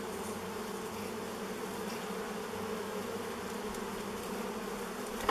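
Bees hum in a dense, steady drone from a beehive left unopened for over thirty years, a continuous close buzz with no voices.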